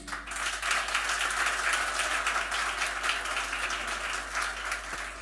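A concert audience applauds the nursery staff with a dense, even burst of clapping from a sizeable crowd, sustained for several seconds at moderate, somewhat distant volume, over a low steady hum.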